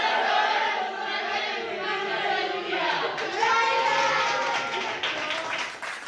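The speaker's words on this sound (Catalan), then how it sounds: "Un fort aplaudiment" A studio audience at a school quiz show claps together, and the sustained applause mixes with crowd noise and a faint cheer. It stays strong for several seconds before easing off.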